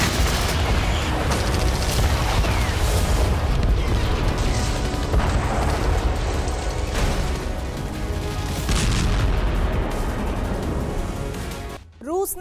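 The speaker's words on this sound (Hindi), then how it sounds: "रूस ने यूक्रेन पर कई अहम हथियारों से मिसाइल अटैक किए।" Dense, continuous rumbling blasts and bursts from a Russian missile attack on Ukraine, loud and sustained with overlapping booms throughout, ending in a brief quiet moment followed by a voice.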